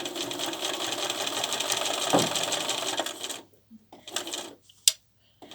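Sewing machine stitching binding on a quilt, running in a steady, close mechanical whir for about three seconds, then a few slow single stitches with quiet gaps.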